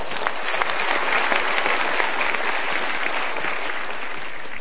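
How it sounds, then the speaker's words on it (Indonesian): An audience claps steadily at a motivational talk, a dense, even wash of many hands that carries on alone without voices. "Kita berikan tepuk tangan."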